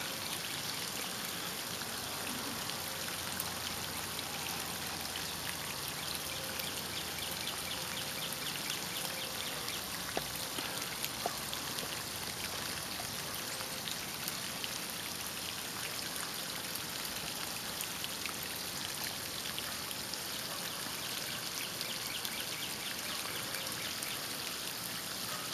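Water pouring steadily onto trees along the edge of a yard, a continuous hissing and splashing wash like heavy rain or a running stream, with scattered drips and no voices.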